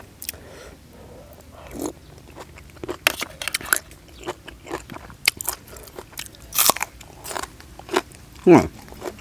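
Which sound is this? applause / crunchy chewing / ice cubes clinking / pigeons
crunchy chewing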